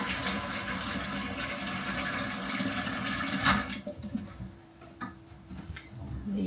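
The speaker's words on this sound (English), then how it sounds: "And then I'm just going to fill this to the top of the meat with water." Water pours into a pot over meat with cloves and bay leaves, a steady close rushing fill for about three and a half seconds, then it stops and a few light drips and clinks follow.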